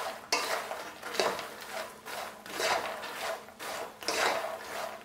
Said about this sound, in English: So all the masala will coat the makhana very nice. So just keep stirring and keep mixing.